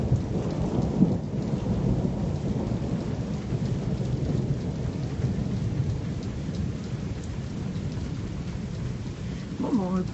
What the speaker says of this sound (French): on a fait le plus fort de l'orage